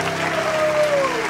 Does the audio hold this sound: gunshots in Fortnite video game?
no